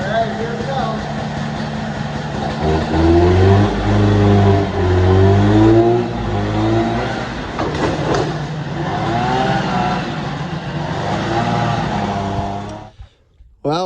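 A Ski Whiz snowmobile engine, an old late-1980s machine, runs and revs loudly and close for several seconds with a rising and falling drone, then cuts out abruptly as it floods.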